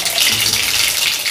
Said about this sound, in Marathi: तेल गरम झालेले आहे, मोहरी घालते